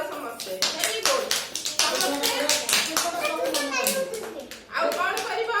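Children clap their hands in a classroom, giving sharp, fairly close, uneven claps in a loose rhythm, with a brief pause near the end before the clapping resumes. Children's voices and talk mix in.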